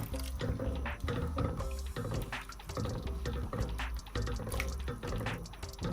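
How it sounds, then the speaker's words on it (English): Hot water pours steadily into a pot of meatball curry, a continuous splashing, gurgling stream at close range with no talking. "I'm going to add some hot water."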